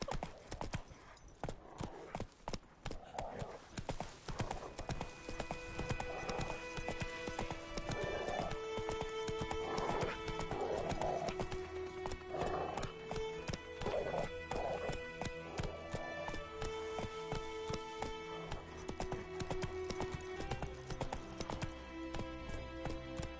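Geralt's horse Roach gallops in The Witcher 3, with a steady, rapid clip-clop of hooves throughout and a neigh or whinny partway in, the hoofbeats close and continuous.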